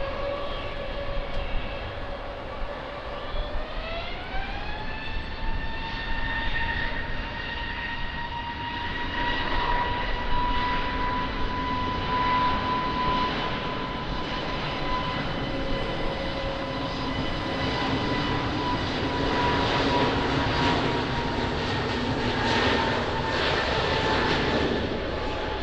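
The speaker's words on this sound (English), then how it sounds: "wind 150 degrees, 10 knots, runway 20, cleared for takeoff" Airplane taking off from runway 20 at Lisbon Airport: a sustained jet engine roar whose whine rises in pitch early on, then holds steady and loud as it builds through the takeoff roll.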